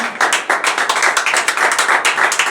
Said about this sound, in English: They're in so much shock, they really want to clap.